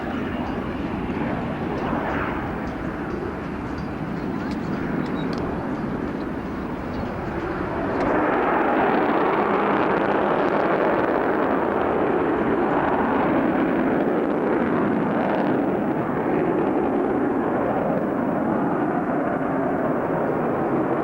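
A B2 bomber flies past at the 1990 RAF Abingdon airshow, a continuous loud roar of jet engines that swells noticeably partway through and then holds as a heavy, sustained rumble.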